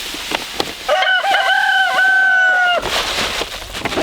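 A rooster in a backyard flock of 21 chickens crows loudly and close by in one drawn-out call lasting about two seconds, while other hens cluck faintly around it.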